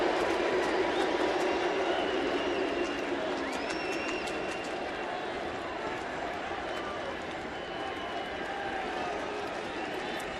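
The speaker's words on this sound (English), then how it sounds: "This is the most noise we've heard out of the crowd here tonight, as the Blue Jays have scored a run off Mariano Rivera" Stadium crowd at a Yankees at Blue Jays baseball game cheering after Toronto scores a run off Mariano Rivera, a broad, sustained roar with scattered whistles and shouts, steady and fairly distant.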